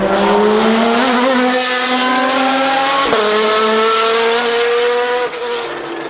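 A Maserati MC12 GT1 race car accelerates hard, its engine note climbing steadily through the gears with brief dips at each upshift, loud and close, with no voices.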